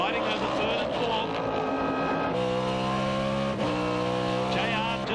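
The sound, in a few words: race cars battling on track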